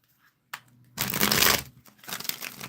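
A tarot deck is shuffled at close range: a brief riffle, then a louder burst of card rustling and flapping tapering into lighter shuffling. No voices.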